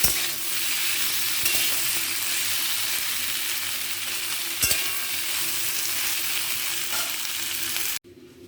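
Potato pieces frying in hot oil (tinted with turmeric) in a pan, a continuous loud sizzle with occasional stirring clatters, ending in a sudden cut.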